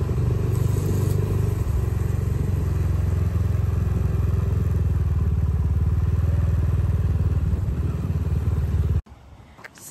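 A motorbike rides toward a shopping mall's rear parking area, its steady low engine drone loud and close with clattering rattles, cutting off abruptly near the end.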